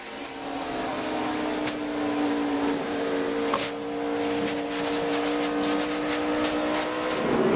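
Continuous NASCAR Sprint Cup engine roar at Dover with a sudden sharp pop midway as a tire blows, followed by a loud wall impact and sustained engine noise; no talking.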